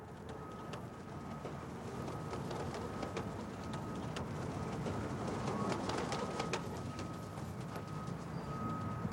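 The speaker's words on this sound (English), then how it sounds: "Flying pigeons on the rooftops." Pigeons on city rooftops, with soft cooing and fluttering over a steady wash of outdoor noise that resembles rain, faint and continuous with no voices.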